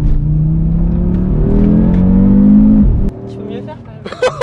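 Audi RS3 stage 2 tuned to 500 hp with a Milltek exhaust, accelerating hard from inside the car, its engine note rising steadily for about three seconds before the throttle lifts, with brief talk and rustling after.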